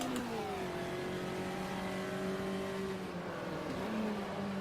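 In the Automobilista racing game, a Volkswagen Fusca race car engine revs at the Curvelo circuit. The loud, steady whine holds, dips as the pitch drops, then climbs again, with no talk.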